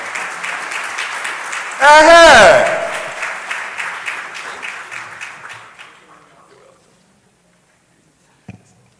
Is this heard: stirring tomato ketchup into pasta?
no